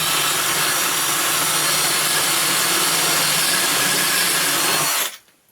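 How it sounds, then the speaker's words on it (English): A power drill bores holes into wood pieces for a custom media unit, with a depth gauge set deeper. A steady, loud whirring grind runs nearly five seconds, then cuts off abruptly. "So that's how you drill them."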